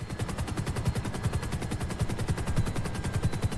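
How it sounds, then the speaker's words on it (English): Rapid automatic gunfire in GTA Online rattles in a steady, evenly spaced burst of shots, fairly faint and continuous throughout, with no talk. "Someone firing."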